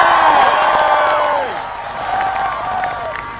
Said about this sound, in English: Can we get a big cheer for the Matildas?